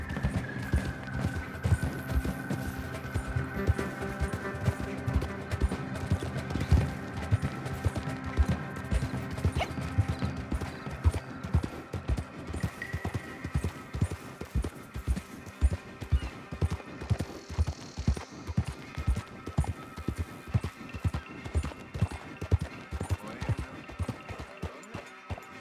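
Horse hooves clip-clop steadily in Red Dead Redemption II, a continuous rhythmic trot growing more pronounced, mixed with game ambience and an occasional whinny, with no speech.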